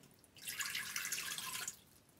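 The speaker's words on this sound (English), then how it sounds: "we're going to pour in 1 cup of water" One cup of water is poured into an open Instant Pot's inner pot, giving a steady, fairly quiet splashing stream that lasts just over a second before stopping, with no talk.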